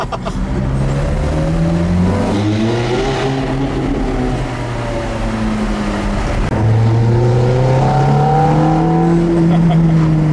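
A 490 hp car accelerates hard, its engine note rising through the gears in long sweeping pulls with a brief dip at a shift, loud and close from inside the cabin.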